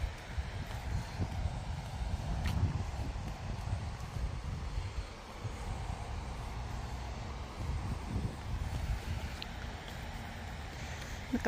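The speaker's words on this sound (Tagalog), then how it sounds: "nakaka-relax yung tunog ng ilog" A river flows steadily along the Lower Hutt River in New Zealand, its broadband rushing faint and constant throughout with no talk.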